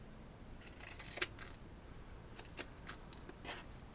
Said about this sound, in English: using the pinking shears keeps your fabric from fraying